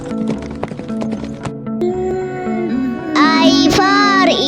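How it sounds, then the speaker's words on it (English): A horse is heard, first as a quick run of clip-clopping hoofbeats, then a loud, close whinny, all in a clean, studio-like recording. "H for horse."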